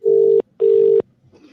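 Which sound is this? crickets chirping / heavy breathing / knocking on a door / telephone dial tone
telephone dial tone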